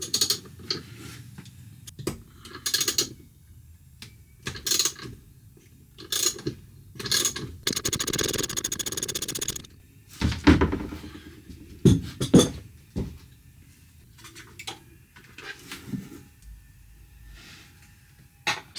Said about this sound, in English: use a 17mm socket and disconnect the wire lug here off the